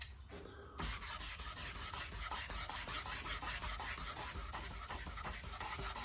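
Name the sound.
quick wipe with a rag on a Corvette part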